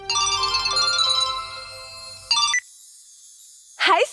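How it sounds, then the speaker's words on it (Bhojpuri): A mobile phone ringtone plays a clear repeating melodic pattern for about two seconds, pauses, then gives a brief burst, followed by a short rising chirp at the end. "तब मेरी सहेली सोनिया का फोन आया"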